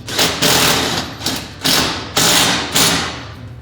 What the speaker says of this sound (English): use the pre-drilled hole to drill this lag into our header